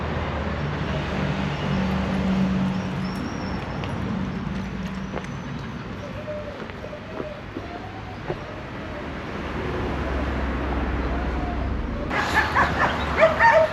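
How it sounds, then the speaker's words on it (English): Galgos, Spanish greyhounds, at a rescue centre give scattered yips and short barks over steady background noise, mostly distant and moderate, with a louder burst near the end. "So we're going to have Nala and Monkey playing with a few of the Galgos that are here"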